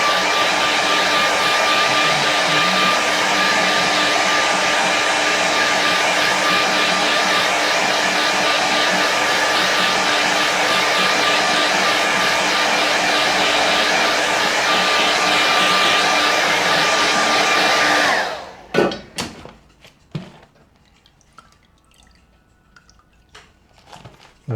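A hair dryer blows a continuous loud, steady whoosh close by to dry a watercolour winter landscape painting, then switches off, leaving a few faint clicks and knocks.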